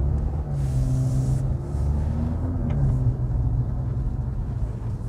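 Skoda Superb Stage 3 with a Garrett Powermax turbo and downpipe idles with a low steady engine rumble, moderately loud, with no talk over it.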